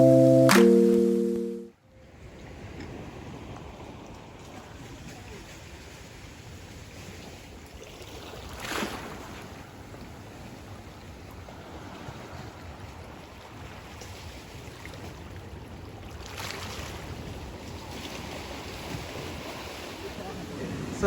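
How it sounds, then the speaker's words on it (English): Waves wash in steadily at Lyssons Beach in St. Thomas, Jamaica, a broad soft rushing surf with occasional louder swells and wind buffeting the microphone, after a brief burst of talk and music at the start. "Welcome to Lyssons Beach. This is one of the main attractions here in the parish of St."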